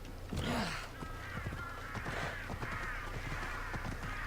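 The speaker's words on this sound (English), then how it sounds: "Angry crows are angry." Harsh crow caws in the video game Assassin's Creed Odyssey repeat several times over a steady low hum and faint clatter, loud and close throughout.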